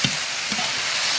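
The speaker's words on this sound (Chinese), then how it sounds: "炒香以后下入青红辣子、洋葱条，炒一炒，倒入驴肝。" Donkey liver stir-fried with green and red peppers and onion strips in a wok: a loud, steady sizzle close up with a couple of quick stirring scrapes, brief and without talk.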